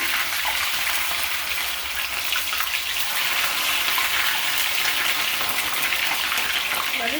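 Raw potatoes tipped into hot oil give a loud, dense, steady sizzle that lasts the whole stretch, with no talk over it.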